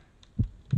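A single deep lub-dub heartbeat pulse from the video game Grounded, two low soft thumps close together, near and alone over a quiet hum.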